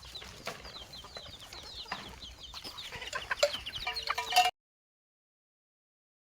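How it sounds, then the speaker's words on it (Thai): Farm chickens clucking at close range, with short bird calls and light yard noise over a few seconds before the sound cuts off abruptly. "จะมีไก่นี่ไก่"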